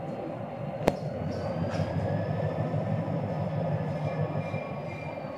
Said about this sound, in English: Look at the choo-choo.